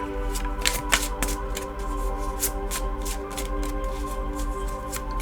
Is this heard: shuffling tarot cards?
yes